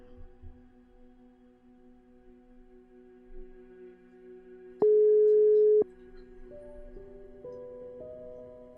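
Telephone line tones while a call is being placed, with steady sustained hums, one louder tone burst in the middle and shifting pitched tones toward the end, without speech.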